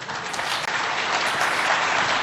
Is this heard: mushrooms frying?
no